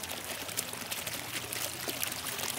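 Water pours steadily over the edge of a fountain basin, a continuous close splashing rush with no voices.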